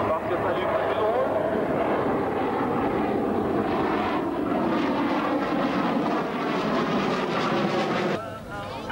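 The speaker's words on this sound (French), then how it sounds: "Alors là, notre avion, notre Tornado" Tornado jet at a 1993 air show at Cambrai air base 103, a loud sustained roar that swells and holds for several seconds before dropping off, with someone talking over it.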